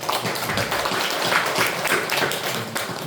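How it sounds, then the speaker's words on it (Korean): Congregation applause in a church service, a dense, steady wash of many hands clapping at moderate loudness throughout, with scattered louder taps and no talking over it. "박수 한번 쳐요"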